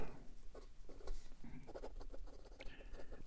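The nib of a 1937 Sheaffer Balance fountain pen writing on paper, faint, close scratchy strokes in short irregular bursts with quiet pauses between.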